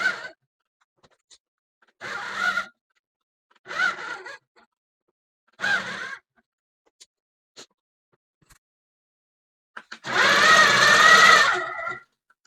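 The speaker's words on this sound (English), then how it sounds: "I think I'm going to stitch in the ditch here." A long arm quilting machine stitches in the ditch on a quilt, running in short whirring bursts separated by silences and ending in one longer, louder run; close and clear, with no talking.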